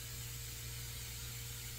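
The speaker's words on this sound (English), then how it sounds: "you need to spray like a fixative on your" Fixative spray from an aerosol can held six to eight inches from a charcoal drawing of a koi fish, producing a steady, close continuous hiss with no pause and no talking.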